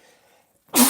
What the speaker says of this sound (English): Oh no, I'm going to sneeze.